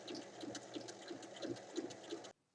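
A sewing machine topstitches the four sides of a cushion cover, humming faintly with a soft repeating tick for about two seconds before stopping abruptly.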